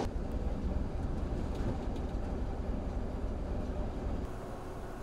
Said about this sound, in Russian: дорога, по которой мы сейчас едем на тепловозе